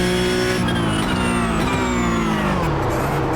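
Porsche Cup 992 race car in iRacing at Imola, tires locking up under braking: a loud, sustained engine tone with falling pitch as the car slows, with squealing tire noise running through, no talk.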